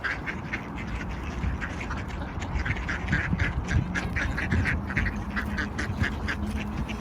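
Ducks being fed quack continuously in a busy, overlapping chorus, close and fairly loud, with rustling and splashing underneath.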